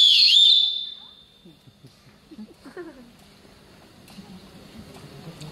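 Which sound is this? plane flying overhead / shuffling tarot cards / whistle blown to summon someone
whistle blown to summon someone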